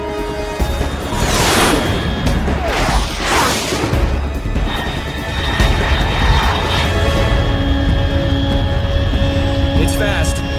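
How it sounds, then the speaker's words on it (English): Jet aircraft in Metal Gear Solid 3 roaring past at high speed, with rushing whooshes and loud swells over a steady engine drone and electronic tones, while a voice speaks over it. "Unidentified aircraft detected."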